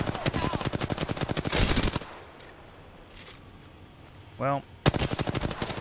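Automatic weapon fire in the battle royale video game Apex Legends, loud rapid bursts at the start and end with a quieter gap between, where a brief voice is heard.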